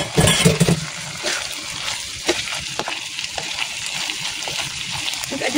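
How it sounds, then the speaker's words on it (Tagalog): Eggplant pieces are dropped into a cooking pot with a brief splash and clatter, followed by a soft ongoing sizzle and slosh of liquid close by. "lagyan na natin yung talong"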